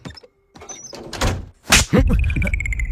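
A door is pulled shut indoors in a dramatic scene, a short scrape and solid thunk among other movement sounds, followed by a faint high tone.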